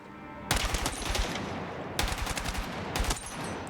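Several loud, close bursts of rapid fire come from a 417 rifle chambered in 7.62x51mm on a Battlefield 6 firing range, with dense, heavy shots and short pauses between the strings.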